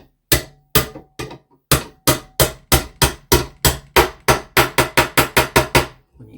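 A bushing is punched into a mid-century modern mantel clock with a hard makeshift tool, producing about seventeen sharp, close metallic knocks that begin spaced and quicken into a steady, even rhythm, with no voices.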